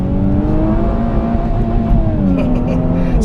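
A 2017 Infiniti Q60 Red Sport 400 engine pulls under acceleration on the road, a loud, smooth rising drone with steady harmonics and a faint whir, heard close and uninterrupted.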